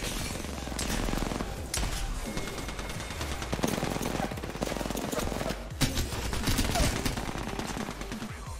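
Peacekeeper shotgun quick-firing in Apex Legends, a rapid string of loud booming blasts over a busy game soundscape, with a few sharper cracks toward the end.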